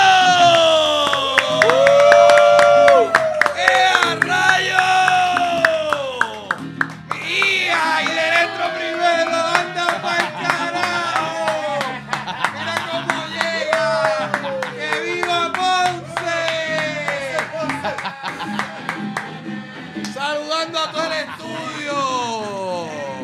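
A studio audience claps and cheers to welcome a guest from Ponce, Puerto Rico, loud at first and then tapering, with someone talking over it and music behind.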